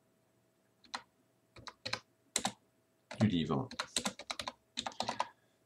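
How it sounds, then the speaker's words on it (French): Keys clatter on a computer keyboard during text entry, in close, irregular bursts of clicks while a voice speaks between and over them. "tout ce que j'ai saisi, c'est de la saisie au clavier"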